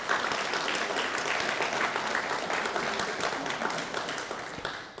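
Sustained audience applause fills a school ribbon cutting ceremony at an elementary school, a steady dense clapping from a crowd that holds for about five seconds before starting to thin out near the end.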